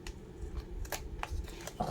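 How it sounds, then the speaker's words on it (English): Scissors snipping through a paper treat box, a few crisp close cuts in quick irregular succession, quiet and heard on their own. "You can come through with your scissors and cut."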